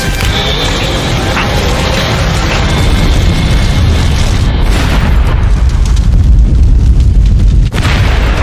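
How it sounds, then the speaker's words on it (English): Chemical tanks explode during a building fire, a loud, sustained rumbling boom with a deep roar that fills the whole stretch, the blast swelling heavier toward the end with crackling debris, with no voices. "The firefighters narrowly escape injury from the explosion."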